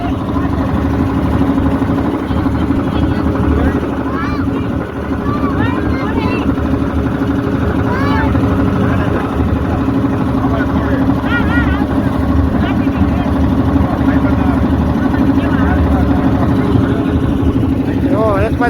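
Boat engine chugging steadily on the river at Kashi, a loud continuous close drone with people talking over it.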